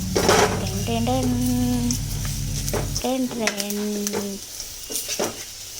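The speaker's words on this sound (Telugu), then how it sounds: "వేగుతున్నాయి మెల్లమెల్లగా మెల్లమెల్లగా కలపడానికి రావట్లేదని ఇట్లా అంటున్నాను అనమాట" Ridge gourd peel fries in a pan with a steady sizzle while a spoon stirs and scrapes it in short bursts, close up, with a voice talking over it.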